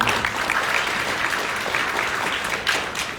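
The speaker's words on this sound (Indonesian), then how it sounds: "Boleh tepuk tangan dulu untuk Polri." Audience applause fills a hall at an Indonesian National Police (Polri) public relations event on countering hoaxes: dense, steady clapping from a large crowd, sustained throughout with a slight swell near the end.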